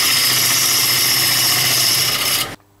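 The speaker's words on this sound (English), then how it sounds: "I'm going to put the lathe on at a very slow speed" Wood lathe running at slow speed while turning a large wooden thread spool, giving a loud steady whirring hum close by that cuts off abruptly near the end.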